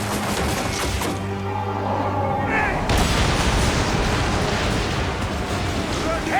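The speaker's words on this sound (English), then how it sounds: "Our catapults will fire upon your order." Ship-mounted catapults firing during a naval battle in the video game Assassin's Creed Origins, with heavy booming launches and impacts over a continuous roar of battle noise and music; voices are heard along with them.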